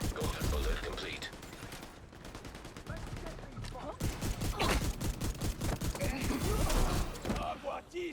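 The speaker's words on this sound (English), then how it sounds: "Kay is using a well-worn VM-19 heavy blaster with a unique ability to switch modules." Rapid blaster fire from a VM-19 heavy blaster in a video game rattles in dense, continuous bursts, loud and close, with a voice talking over parts of the barrage.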